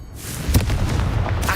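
A Confringo fire spell goes off in the video game Hogwarts Legacy: a loud, booming blast with a sharp crackling burst near the middle and a rumbling tail that lingers to the end.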